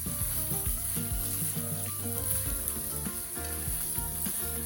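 Vegetables for a South Indian mixed vegetable khichdi sizzle and fry steadily in a pan as they are stirred, a continuous close crackling hiss with no talk.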